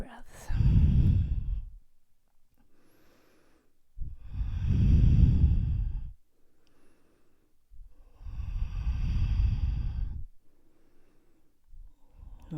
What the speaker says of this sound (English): Even breaths.